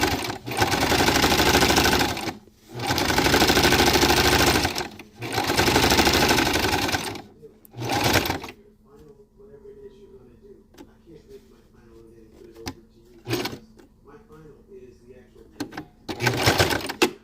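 Sewing machine stitching dark fabric for a 3D mask, loud steady whirring runs in three long bursts with short pauses, then a quieter stretch of scattered clicks and handling noise before another brief burst of stitching.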